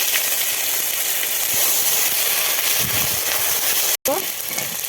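Cardamom, cloves, cinnamon, cumin and ginger paste frying in hot mustard oil in a pan, a steady, loud sizzle and hiss with occasional stirring scrapes, and a voice speaking over it.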